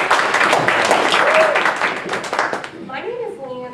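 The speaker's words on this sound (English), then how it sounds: "Let's give her a warm round of applause." Audience applause in a school classroom setting, a round of clapping that fills most of the moment and then fades out, with a voice beginning to speak at the end.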